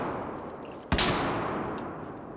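A single sharp report from a bolt-action sniper rifle in Battlefield 4 cracks out, followed by a long fading echo tail, fairly quiet overall with no talk.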